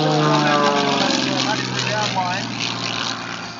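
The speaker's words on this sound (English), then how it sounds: "This is a very large airplane for the maneuvers that he's flying" A large propeller aerobatic airplane in a red, white and blue stars-and-bars scheme performs at the 2010 Davenport, Iowa airshow. Its engine drones loudly and steadily throughout, with a voice talking over it.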